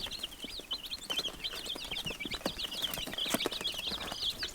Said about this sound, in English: little chicks that we're raising again for the Trinity Haymarket